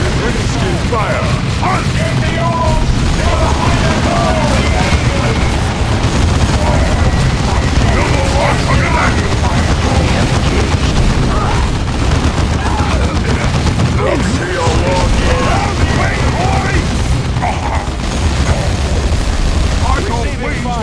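Warhammer 40,000: Dawn of War 2 battle with dense, continuous gunfire, machine-gun bursts and booming explosions throughout, loud and busy, with voiced unit callouts heard over the combat.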